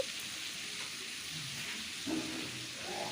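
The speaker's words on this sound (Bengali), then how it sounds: "সবজিগুলো দেখো অর্ধেক ভাজা হয়েছে" Vegetables sizzle in fish oil in a pan for a mitul-style dish, a steady close hiss throughout with a faint stir near the middle and no talking.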